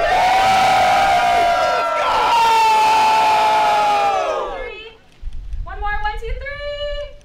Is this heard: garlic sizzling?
no